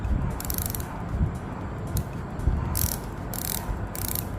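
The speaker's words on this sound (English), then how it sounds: "Really crispy. 120 click bezel." The 120-click rotating bezel of a Breitling SuperOcean watch is turned, giving a close, crisp run of rapid ratcheting clicks in several short bursts with brief pauses between them.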